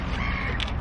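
A bird calls with a short, harsh crow-like caw just outside a parked car at a McDonald's, a single brief burst heard close and fairly loud.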